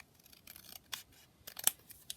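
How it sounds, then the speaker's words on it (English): Scissors trimming the paper edge off a skinny flip-down booklet, several crisp snips spaced irregularly over two seconds, close and quiet with no talking. "So I'm just going to trim that off here down the side."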